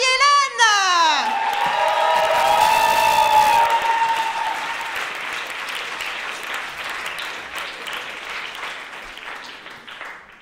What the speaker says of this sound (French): S'il vous plaît, un tonnerre d'applaudissements pour Marie-Hélène!